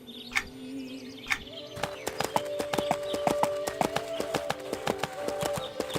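A horse trots in the online fantasy game EverQuest II, its hooves making a steady, close clip-clop rhythm. Chirping birds and a soft, sustained ambient tone sit underneath the hoofbeats.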